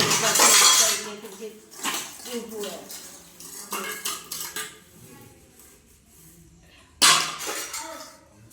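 Metal utensils are scrubbed and washed by hand, with repeated clanks, scrapes and clinks of cutlery and pots coming close and fairly loud in irregular bursts, including a sharp clatter near the end.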